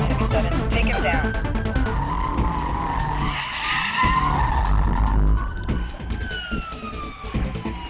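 A Dodge Charger police car in a hot pursuit carries out a PIT maneuver. Its tires skid and squeal in loud, shifting bursts over engine noise, and a siren wails behind them with no speech.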